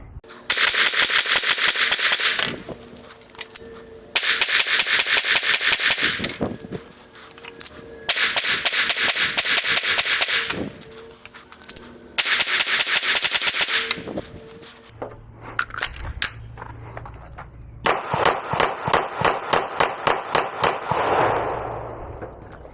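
A Beretta APX A1 Compact pistol fires at a shooting range, loud sharp shots in rapid strings separated by short pauses, ending in a quicker run of shots.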